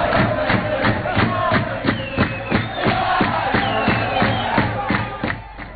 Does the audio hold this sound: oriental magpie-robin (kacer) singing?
no